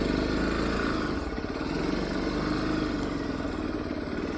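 A motorcycle engine runs steadily on a mountain pass as the bike is moved to park, a continuous mid-pitched rumble with clatter, fairly quiet and close with wind-like noise.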